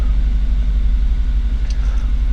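Volvo engine just after a cold start, a steady low idling rumble heard close and loud with no talk over it.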